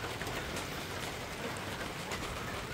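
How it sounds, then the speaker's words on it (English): Heavy rain pours down steadily on a rainy day in a chicken yard, a dense, unbroken hiss that fills the whole stretch with no voices. "And it's raining like crazy today."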